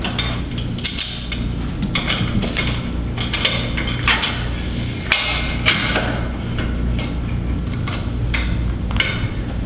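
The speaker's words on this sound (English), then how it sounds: "I'm going to change the bar to a single handle and put the cable pulley down to its lowest setting" Metal clanks and knocks from a Powertec Functional Trainer cable machine as the bar is swapped for a single handle and the pulley is moved down, with repeated sharp hits spread over steady background noise and no talking.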